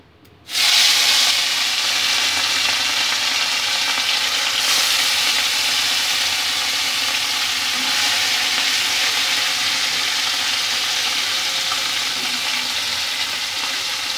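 Small mourola fish fry in hot oil in a pan, giving a loud, steady sizzle that runs unbroken after a sudden start, with no voices over it.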